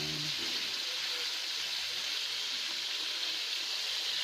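Fish frying in a pan gives a steady, even sizzle and hiss throughout, close by and continuous, with no voices over it.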